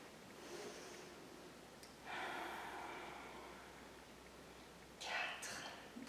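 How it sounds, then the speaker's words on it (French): Slow, controlled breaths in and out during a chair-supported muscle-strengthening exercise, soft airy inhales and exhales at close range, a few seconds apart, over a faint background hiss. "J'inspire et j'expire."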